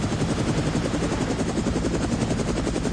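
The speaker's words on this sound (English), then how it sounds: "That's a Foundation helicopter." A Foundation helicopter in the video game Reverse:1999 thunders steadily nearby, its rotor blades producing a loud, rapid, continuous chopping pulse that fills the whole stretch without any speech.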